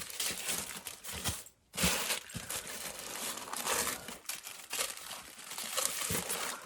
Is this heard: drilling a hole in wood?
no